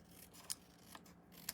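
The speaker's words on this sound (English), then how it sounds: "all we need to do is trim this off, fussy cut it." Scissors trimming paper for a handmade gift card envelope, three quiet, crisp snips spaced about half a second apart, close but faint against a soft room hush.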